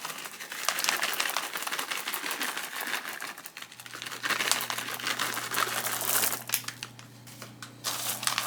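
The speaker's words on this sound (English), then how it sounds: "we're just going to sprinkle them on top of the graham cracker crust as evenly as we can" Chocolate chips sprinkled by hand over a graham cracker crust for layered holiday bars, a dense crinkly patter of small pieces falling and scattering, close and continuous with a faint low hum joining partway.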